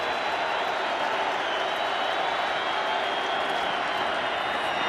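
A packed NFL stadium crowd of Colts fans roars steadily during a Patriots at Colts game on third down, a dense, loud, unbroken wall of cheering.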